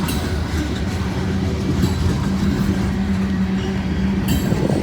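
Long freight train on CSX track in the rain, rolling past with a continuous rumble and clatter, and faint high wheel squeal from the rail switch over it.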